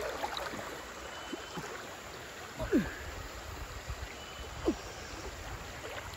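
Steady river water rushes and hisses around a diver submerged in a river, with a few brief bubbling sweeps rising out of the constant wash, and no voices.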